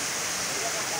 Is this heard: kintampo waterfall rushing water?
yes